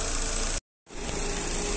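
A 2009 Chevrolet Astra engine idles smoothly and steadily up close after a knocking fault was repaired; the sound cuts out briefly to silence partway through, then the even idle returns.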